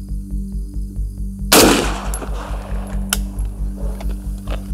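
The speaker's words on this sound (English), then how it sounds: "We're going to be shooting this plate and seeing just how many rounds it can take before one penetrates." An M1A rifle fires .308 Wolf steel-case rounds at a Level IV armor plate, one loud, sharp close shot cracking over a steady rhythmic mechanical hum, with a fainter click afterward.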